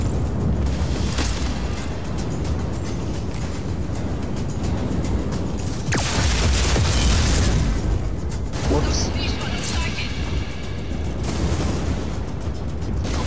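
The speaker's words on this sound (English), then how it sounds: "I love the explosions in this game, they've modeled it so well." Deep booming explosions roll and crackle in the game Just Cause 4, with bursts of blasts and rumbling debris over continuous background noise.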